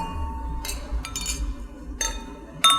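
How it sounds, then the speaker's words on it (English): Wine glasses clink together in a toast at a wine night, several bright, short chimes spaced across a couple of seconds, close by over a low room murmur. "let's raise our glass to Gino."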